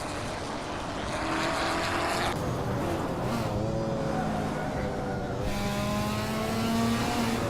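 Race cars in a Hot Wheels video game pulling away, a steady loud roar of several engines whining and revving together, continuous and close, with pitch shifting as they accelerate.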